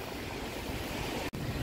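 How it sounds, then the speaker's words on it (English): Ocean waves near Siargao island wash in a steady, dense hiss and rumble of surf, loud and close, broken only by a split-second dropout, with no voices. "the waves are getting stronger and bigger by the minute"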